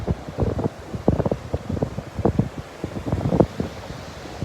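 Gusty wind buffeting the microphone on a beach at Delnor-Wiggins on a blustery morning, rough low rumbling bursts rising and falling steadily throughout, with no talking.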